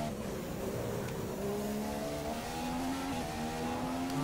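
A Formula 1 race car engine in the video game F1 2015 drones steadily with rising and falling pitch, loud and continuous, with a faint tire squeal and no voices.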